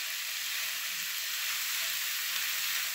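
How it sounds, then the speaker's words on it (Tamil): Cooked rice frying in a pan for simple fried rice gives a loud, even, continuous hiss of sizzling that holds steady for the full few seconds, with no voices. "அந்த சாதத்தையும் போட்டு நல்லா ஃப்ரை பண்ணிவிட்டுருங்க"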